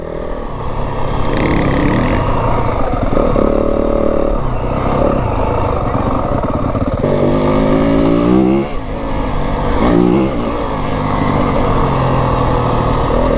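A Yamaha WR 250F dirt bike rides Flagstaff single track, its engine loud and close throughout, rising and falling in repeated revs and throttle bursts with no break.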